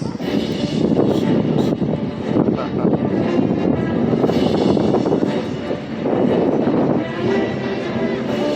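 Propeller planes fly in formation at the Jones Beach air show, a loud, sustained engine drone that swells and dips as they pass overhead, with a voice faintly mixed in.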